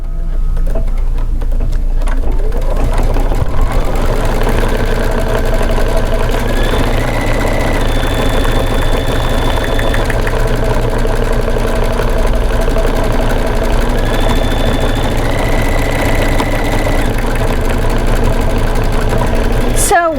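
Embroidery machine stitching a design with chenille and flamingo-head cutting areas, a steady close mechanical whir with rapid needle rhythm running throughout, with shifting pitch as the stitching changes.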